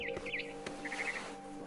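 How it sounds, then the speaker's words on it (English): A barn swallow in the video game What Remains of Edith Finch gives a few quick, bright chirps in two short bursts, heard clearly over a quiet background. "Then I heard chirping outside my window. It was a barn swallow going back to her nest."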